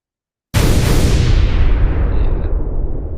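An explosion sound effect for a plane shooting game: a sudden loud blast that swells into a dense, sustained roaring rumble and slowly fades, with no other sounds.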